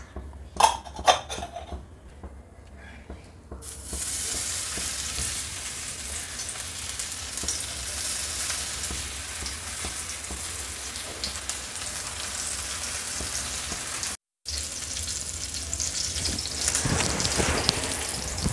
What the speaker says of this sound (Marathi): चला तर आता गॅसकडे सगळं फ्राय करायला घेऊया. तवा ठेवला. हा मी लोखंडाचा तवाच वापरते मच्छीला.